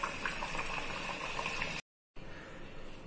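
Beetroot puri frying in hot oil, a dense hissing bubble that stops briefly for a moment of silence and then resumes, close and steady with no speech.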